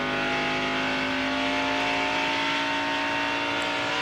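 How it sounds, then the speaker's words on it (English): A NASCAR Busch Series race car drones steadily through the center of a turn at Homestead-Miami Speedway during the 2002 Ford 300, with a loud, sustained engine tone and no voices. "look at that car roll through the center, Benny."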